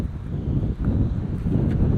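Steady, low wind buffets the microphone in a continuous rumble, with no talking throughout.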